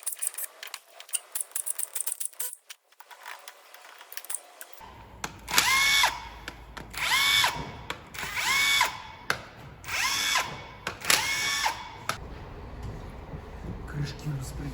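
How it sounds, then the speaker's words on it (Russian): A power tool unscrewing bolts on a Volvo FH 460 D13C truck engine during teardown, with a short quiet hiss followed by four separate loud whirring bursts, each with a ratcheting rattle, close by with workshop noise between. "снимаем и откручиваем вот эти 4 болта"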